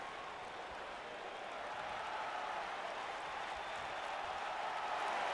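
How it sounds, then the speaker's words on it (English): Arena crowd noise in the WWE 2K20 wrestling video game at an NXT TakeOver event, a steady broadband roar of cheering and chanting that swells slightly louder toward the end, with no one speaking over it. "And this crowd chanting, "This is awesome,""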